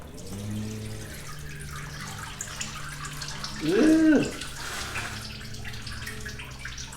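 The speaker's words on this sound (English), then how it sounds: "So we got most of it dripping" Transmission fluid drips from a leaking Dodge 46RE transmission pan, with soft, close drips over a quiet background and one louder burst in the middle.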